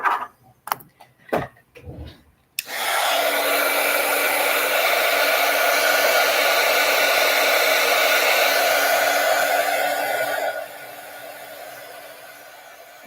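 A hair dryer blows steadily for about eight seconds to dry glued mail art, loud and close, starting after a few brief knocks and handling sounds, then dropping to a lower setting before cutting off.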